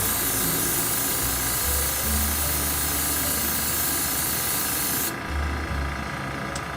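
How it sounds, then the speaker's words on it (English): Steady, continuous spray hiss of an airbrush spraying paint onto a spoon, running loud and close, briefly cutting off near the end before resuming more softly. "This airbrush, you adjust this thing up and down. And that's get it to spray."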